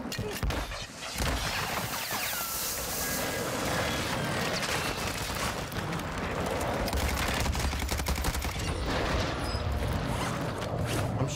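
Dense, continuous gunfire from the Vaznev-9K in Call of Duty Warzone 2, a battle royale shooter, with rapid automatic bursts and clattering mechanisms running loud and steady, no pauses throughout.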